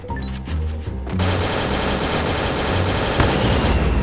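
Rapid automatic gunfire in a video game, a sustained dense burst of shots aimed at a dragon, loud and continuous after a brief opening volley.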